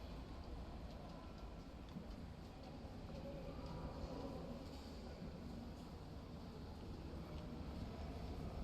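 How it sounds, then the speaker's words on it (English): A train approaches in the railway simulator game Train Sim World 2 on a Brighton route, a low continuous rumble and rolling hum that stays steady and fairly faint throughout with no voices. "I want to see the train before we go."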